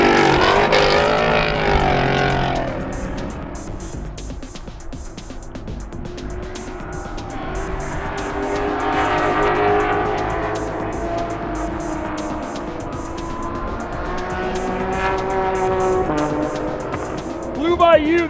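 Endurance race cars at Watkins Glen drone through the corners, engines rising and fading as they pass at a distance, with a commentator talking over the steady motor noise.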